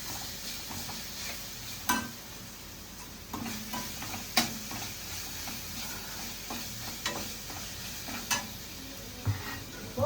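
Cinnamon frying in oil in a pan, a soft, continuous sizzle with scattered scrapes and taps of a spoon against the metal, fairly quiet and with no one talking.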